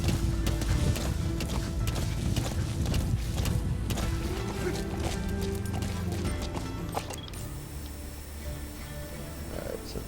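A horse gallops in Metal Gear Solid V: The Phantom Pain, with rapid rhythmic hoofbeats under game ambience that fade and thin out toward the end.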